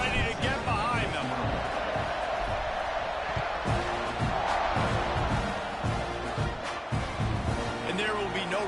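Football stadium crowd at a UCLA game roaring steadily at kickoff, a dense, continuous wall of cheering that stays loud throughout, with a commentator talking over it.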